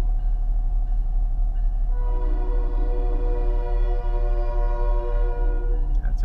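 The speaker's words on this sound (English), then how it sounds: "Our smart train, Sonoma Marin Rail Transit, Rapid Transit." Sonoma Marin Rail Transit commuter train rumbles past, its deep low drone steady throughout while a sustained horn chord swells in midway and holds for several seconds, loud and fairly close.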